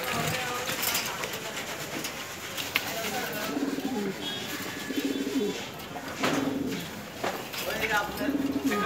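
Pigeons coo repeatedly in a bird shop selling pigeons, feed and supplies, low throaty calls recurring amid steady background bustle and voices.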